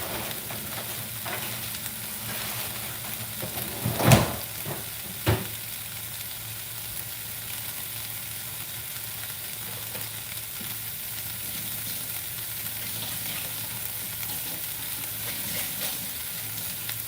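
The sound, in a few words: stir fry vegetables sauteing in a pan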